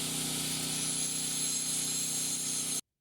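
A steady, high-pitched whine of a small power drill with a tiny bit drilling holes, running continuously for nearly three seconds, then cutting off abruptly.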